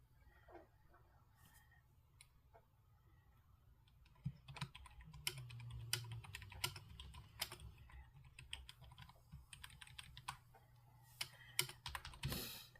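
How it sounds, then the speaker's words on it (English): Fingers tapping keys on a keypad, heard as a quiet, irregular run of light clicks with a faint low background hum and no talking. "I got to get my keypad out here."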